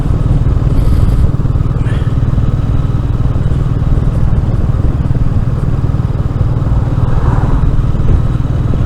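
Royal Enfield Meteor 350 motorcycle engine runs steadily and close up while riding, a continuous low thrum with a gear change up under constant wind rush.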